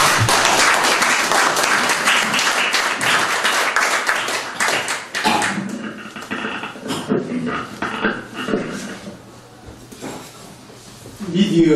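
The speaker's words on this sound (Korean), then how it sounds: "큰 박수로 환영해 주세요." Loud, dense clapping from an audience welcoming a speaker at an anniversary ceremony for a media association. It thins into scattered claps and a voice starts speaking before a final burst.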